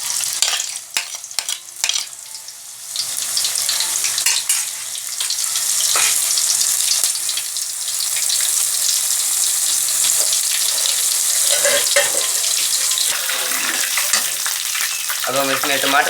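Garlic and ginger fry in hot ghee in a pan, a loud steady sizzle with stirring clatter and a few sharp scraping knocks, close up and without any talking.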